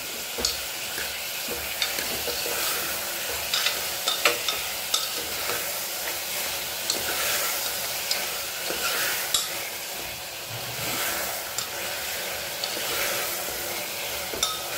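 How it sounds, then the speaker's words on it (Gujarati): Vegetables with turmeric and salt are stirred in a hot pan for ragda, soft continuous sizzling broken by frequent close scrapes and clinks of the spoon on the metal pan, no talking. "હળદર, સહેજ મીઠું એડ કરીને સરસ મિક્સ કરી લઈએ"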